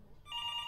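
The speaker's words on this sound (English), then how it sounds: "Well, go get the flippin' phone, young man." A telephone rings in the video game Before Your Eyes, a steady electronic bell tone starting abruptly after a quiet moment and sustained, moderately loud.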